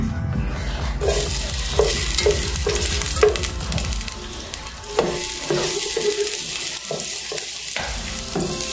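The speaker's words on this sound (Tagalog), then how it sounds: "Once po na mainit na po yung ating cooking pot and the oil, syempre ilalagay na po natin yung ating onion." Onions sizzle and fry in hot oil in a cooking pot for beef caldereta, a steady close hiss with repeated stirring scrapes and clinks of a utensil against the pot.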